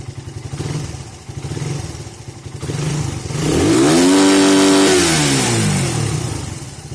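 A Suzuki Satria FU motorcycle with a modified clutch, idling with a rapid putter before its engine revs sharply up to a screaming 12,000 rpm limit, holds there loudly, then winds back down.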